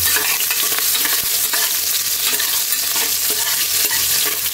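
Chopped onion stirred in a hot cooking pot, loud continuous sizzling and frying with repeated scraping strokes of the spoon, close up and steady, no voices.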